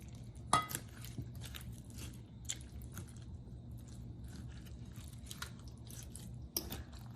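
Salmon okoy batter with sweet potato and bean sprouts is stirred in a bowl, giving soft, wet squishing and mixing sounds under a low background hum, with a couple of sharper knocks of utensil against the bowl.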